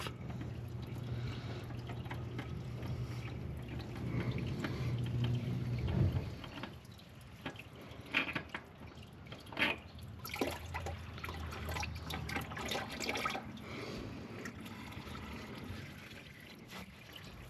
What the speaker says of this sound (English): All right, with it dripping, I'm going to go ahead and attempt to pull this off.